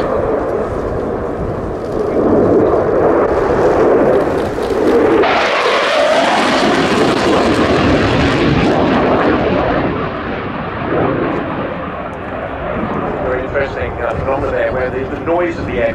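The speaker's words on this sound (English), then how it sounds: "Noise of the aircraft doesn't actually reach you until the aircraft has almost gone past." A Swiss F/A-18C Hornet jet makes a fast fly-by at an air show, its loud roar surging in, peaking and then trailing off into a fading rumble as a commentator talks over it.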